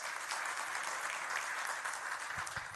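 An audience claps steadily at a Baldwin Park city council special meeting, a continuous even patter of applause heard at a modest distance.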